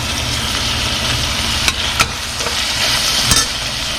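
Onions and tomatoes sauté in a pan with a steady, close hiss, with a few sharp clicks from stirring and no talk.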